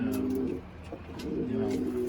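Pigeons coo in a loft, soft repeated low murmuring calls close by, with faint rustling and a quiet voice in the background.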